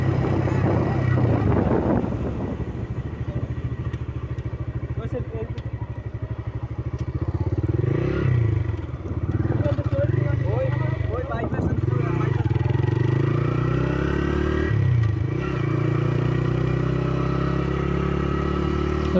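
A motorcycle rides across the Padma Bridge approach by the toll plaza in Bangladesh, its engine droning steadily under heavy wind buffeting, with speech over it throughout.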